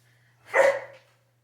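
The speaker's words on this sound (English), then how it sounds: "Oh no, he's barking." A dog gives a single sharp bark close by, rising out of near silence with a faint low hum underneath.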